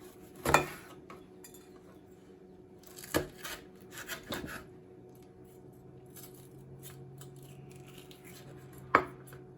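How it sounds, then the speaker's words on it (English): A kitchen knife cuts a red pepper on a board for a Chinese-style cucumber salad, giving a few sharp, separate chopping knocks spaced out over quiet, with no talking. "Then cut red pepper."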